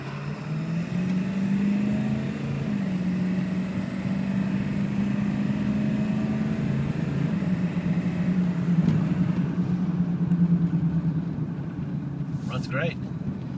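A 2003 Ford F250 pickup with a 7.3L diesel engine runs steadily, a constant low droning rumble throughout with a slight rise in revs partway, heard from close by.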